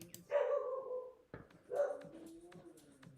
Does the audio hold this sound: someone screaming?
no